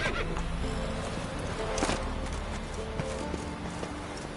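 Hooves of the horse Roach walking in The Witcher video game, a close, steady clip-clop of steps over a continuous background bed.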